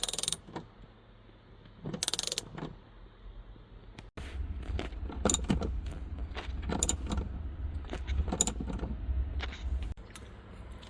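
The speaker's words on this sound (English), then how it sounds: "to remove these front guys you will need torx T40" Metallic ratcheting, clicking and mechanical turning as front seat bolts are removed with a Torx T40 driver in a Dodge Grand Caravan, with scattered sharp clanks and a steady low hum underneath.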